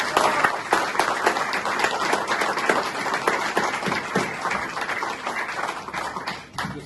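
An audience at a book presentation gives a fairly faint, steady round of clapping with distinct individual claps, tapering off near the end.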